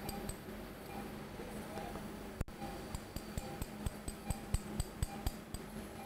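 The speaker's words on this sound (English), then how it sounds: "With a chisel and hammer." Chisel and hammer tapping on bone during endoscopic sinus surgery: a steady run of sharp, close taps that grow louder and more frequent in the second half, over a low ambient hum.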